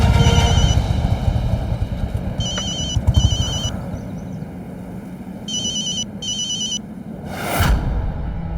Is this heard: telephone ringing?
yes